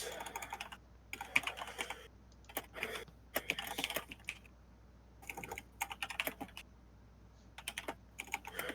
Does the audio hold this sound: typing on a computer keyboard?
yes